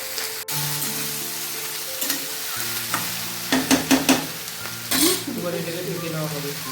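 Thinly cut vegetables such as brinjal, green chilli and ridge gourd being stirred as they fry in a pan for a Bengali chochchori: a steady sizzle under a steady hum, with a burst of close scraping spoon strokes midway.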